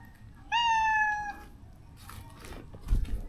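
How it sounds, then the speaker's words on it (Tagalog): A cat gives one clear, drawn-out meow close by at night in a small cemetery, followed by faint rustling and a soft thump. "Pusa lang pala"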